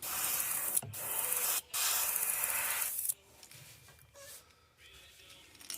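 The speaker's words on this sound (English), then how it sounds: "My airbrush, I think, is a little plugged up" An airbrush, slightly clogged, sprays paint onto a crawfish fishing bait in two close hissing bursts separated by a brief break, followed by quieter handling noises.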